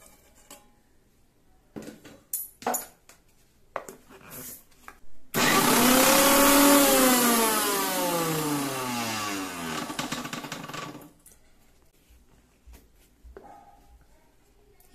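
A kitchen mixer grinder whirs loudly for several seconds, grinding chillies and other ingredients into a coarse paste for jowar thalipeeth, with clattering handling sounds before and after.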